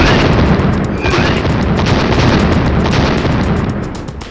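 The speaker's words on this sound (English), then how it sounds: "This is the combination of a switch detonator and bomb explosion." In the 1998 Atlus video game Trap Gunner, a switch detonator sets off a bomb, giving a loud, sustained roaring boom that rumbles for several seconds and slowly tapers off.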